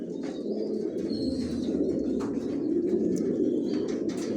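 Racing pigeons of a Johnson line coo softly and continuously inside their loft, a low burbling murmur with occasional faint chirps and wing rustles, no talk.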